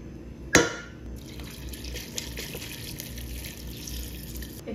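Water poured into a pot of soaked chana dal, roughly half a kilo, with a sharp splash at the start followed by a steady soft trickle and pouring hiss, quiet and close.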